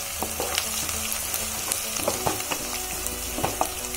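Onions and green chillies stir-fry in a pan for poha, with a constant close sizzle and repeated scraping stir strokes, loud and unbroken with no voices.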